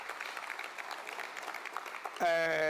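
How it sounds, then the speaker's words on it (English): An audience at a mayoral matric excellence awards ceremony applauds the parents in a steady, moderate patter, then the clapping is cut off abruptly by a loud, sustained electronic tone. "Can we give a round of applause to parents who have indeed given guidance and support?"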